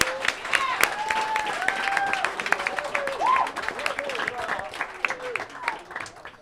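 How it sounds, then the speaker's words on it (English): At a Make-A-Wish telethon, an audience gives a round of applause to school staff, with sustained clapping mixed with voices and cheering throughout. "They deserve a round of applause for their hard work and effort."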